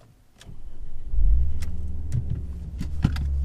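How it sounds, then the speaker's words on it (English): A 2007 Ford Focus ST engine, stock, cranks and catches, rising to a loud idle that settles into a steady rumble with a brief rev near the end. "You get a nice sound when the car starts up."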